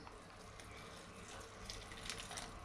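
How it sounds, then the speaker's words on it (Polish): Hot water poured over dried onion in a container for onion bread, a faint steady trickling and gushing splash that continues without pause and without speech. "I zalewam gorącą wodą"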